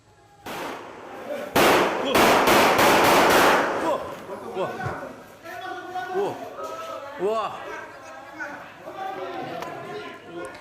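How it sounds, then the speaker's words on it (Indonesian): A man fires a handgun repeatedly into the air outside a factory warehouse office in Deli Serdang, North Sumatra. A rapid, loud string of cracking shots is followed by excited voices of people nearby talking over each other. "Pria ini langsung meletuskan tembakan ke atas di depan orang-orang, bahkan hingga berkali-kali."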